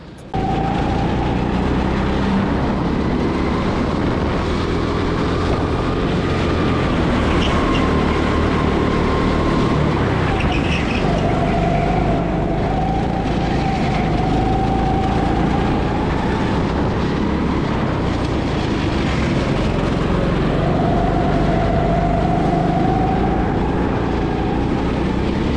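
A go-kart lapping the Raceworld Exeter track at full racing speed, a loud continuous engine drone heard onboard whose pitch rises and falls with acceleration and braking through the corners, over heavy wind rumble, no talking.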